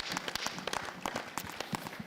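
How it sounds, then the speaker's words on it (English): Audience applause at a panel debate on a visionary mindset, scattered claps crackling steadily from a moderate distance for a couple of seconds. "Applause."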